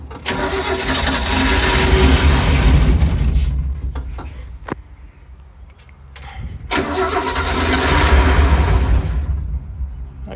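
A 1968 Chevy Sportvan engine cranks over in two long, loud bursts of a few seconds each, separated by a quieter pause with brief clicks, the starter churning close by without catching.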